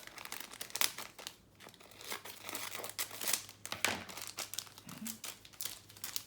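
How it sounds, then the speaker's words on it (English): Scissors cut the top off crinkly plastic packaging for a craft project, giving close, irregular crackling and snipping crunches that come in uneven bursts over several seconds. "I'm going to cut the top of this off."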